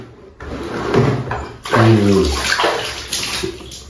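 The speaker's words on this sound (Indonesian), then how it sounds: "kita akan ambil airnya teman-teman" Water running and splashing into a container as it is fetched for washing large ondel-ondel masks, a steady pour that swells and gurgles before tapering off, close by.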